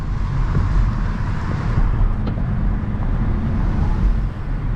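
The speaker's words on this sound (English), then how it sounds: "This is a typical traffic jam here in the United States." A car creeps through a traffic jam on a United States road, a steady low engine and road rumble with faint wind noise, no talking.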